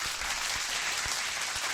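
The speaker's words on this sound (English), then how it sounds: "Let's give a round of applause to the MMA-Holes" A round of applause from a live-stream audience watching a UFC fight night card, a steady, fairly soft wash of many hands clapping with no talking.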